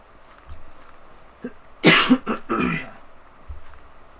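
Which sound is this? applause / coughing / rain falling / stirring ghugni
coughing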